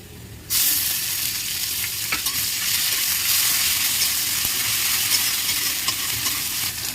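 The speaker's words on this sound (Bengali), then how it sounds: "পেঁয়াজটা লাল লাল করে ভেজে নিয়েছি এখন এই পেঁয়াজ বাটাটা দিয়ে দেবো" Onion paste frying in a pan for a village-style egg curry, added to onions already browned in oil: a sudden loud sizzle starts after a short quiet moment and stays strong and steady, close by, with occasional stirring scrapes.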